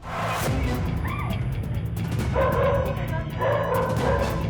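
A German Shepherd dog barks and yelps in a residential area of Tambaram, loud, close bursts mixed with whimpers, while people talk over it.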